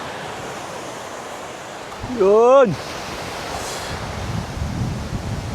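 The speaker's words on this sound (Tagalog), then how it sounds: "Lumakas yung hangin." Steady wind roaring over surf by the sea, with a short shouted voice in the middle.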